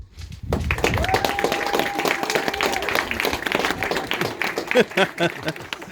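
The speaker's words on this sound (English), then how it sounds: "Give them a big clap" Wedding guests break into loud, sustained applause, a dense crowd of clapping hands that carries on steadily, with a voice briefly audible underneath.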